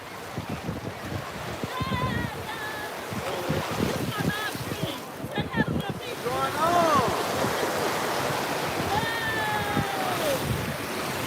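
Ocean waves wash onto the shore in Florida, a rolling surf roar mixed with wind buffeting the microphone, while voices chatter and exclaim over it throughout.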